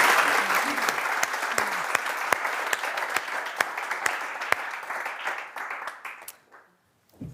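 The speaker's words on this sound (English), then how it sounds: "A round of applause for our panel." Audience applause for a panel at a policy conference, a full room clapping steadily with distinct louder claps poking through, tapering off and dropping to silence near the end.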